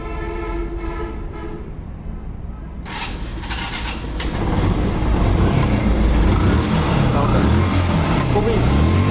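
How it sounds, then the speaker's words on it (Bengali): A Yamaha FZ version 1 motorcycle in fresh condition is started, its engine catching after a quiet stretch and then settling into a loud, steady running rumble close by. "তো যদি আমরা বাইকটা স্টার্ট দিয়ে দেখি সেক্ষেত্রে"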